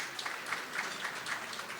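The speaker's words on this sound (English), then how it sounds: "Let's give them a round of applause." Brief applause from attendees at a chamber of commerce annual meeting in Brooklyn, a moderate wash of clapping with a few distinct claps standing out, fairly quiet and without talk.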